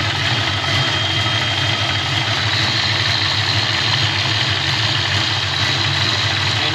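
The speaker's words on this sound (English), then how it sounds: "car's been idling for about 10 minutes" A warmed-up 1988 Ford Mustang LX Foxbody idles nearby with a steady, even low rumble and a constant hum that does not change, with no voices.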